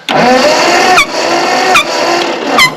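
A Ford 8N tractor engine that will not start cranks over in a harsh, steady churn with spark plugs out, about three short sputtering bursts or puffs of compression blowing past a finger over a plug hole, close and loud.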